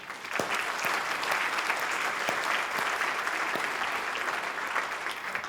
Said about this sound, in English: I think that is welcome of a round of applause